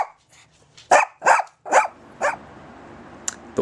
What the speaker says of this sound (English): The world's shittiest dog.